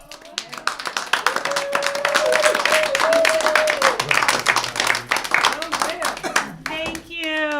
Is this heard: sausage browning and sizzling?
no